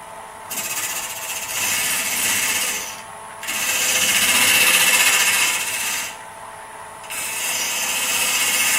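A wood lathe spins a pen blank while a Harbor Freight turning tool cuts it, a hissing, rasping scrape that comes in long passes with brief pauses between them.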